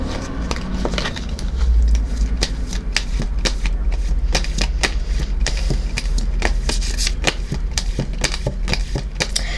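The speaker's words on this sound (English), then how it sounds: "I'm going to get some more cards here, guys." Tarot cards being shuffled by hand, a steady run of crisp riffling clicks and slaps close up, continuous and fairly loud with no talking.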